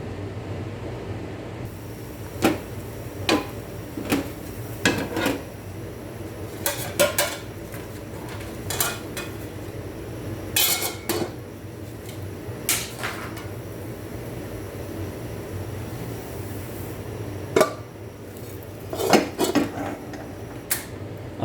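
Metal lid clanking against a pan while bread browns on the stove, heard as scattered sharp clinks and rattles spread through the stretch over a steady low kitchen hum.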